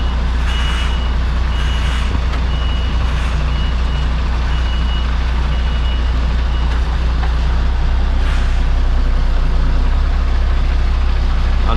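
Lorry reversing a trailer at a collection yard: a loud diesel engine idles and rumbles throughout while a reversing alarm beeps in a steady, repeating rhythm close by.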